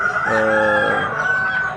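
A rooster crows once, loud and close, a long drawn-out cock-a-doodle-doo at a small home-scale backyard chicken farm, with no talk over it.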